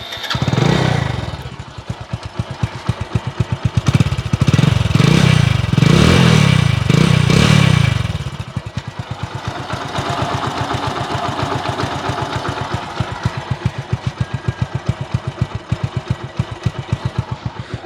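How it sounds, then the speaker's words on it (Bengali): A second-hand Hero HF Deluxe 100 motorcycle in good condition runs close by, its single-cylinder engine revving in several loud bursts before settling into a steady, rapid idle. "এবার আপনাদেরকে গাড়ির ইঞ্জিনের সাউন্ড শোনানোর চেষ্টা করব।"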